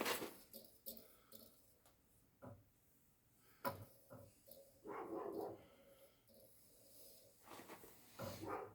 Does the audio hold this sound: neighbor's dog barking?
yes